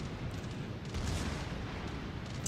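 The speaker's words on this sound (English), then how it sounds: "our secondaries are still firing on that destroyer over there" Secondary guns of the battleship Arizona firing in World of Warships Legends, a continuous low rumbling barrage of booms with a few sharper reports, loud and sustained without talking.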